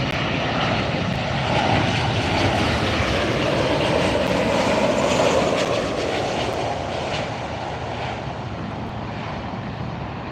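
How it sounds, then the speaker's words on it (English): A Southwest Airlines jet arriving from El Paso lands at LAX, its engines a loud, steady roaring rush with wind noise, slowly easing in level as it passes. "Southwest coming in from El Paso, Texas,"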